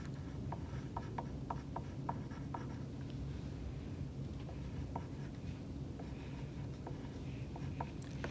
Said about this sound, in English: let me let you finish writing first